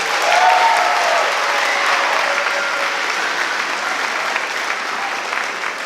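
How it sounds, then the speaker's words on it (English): An audience at a sixth-grade band spring concert claps continuously for about six seconds. The dense applause swells at the start, then holds steady, loud and close. "Let's give him one more round of applause."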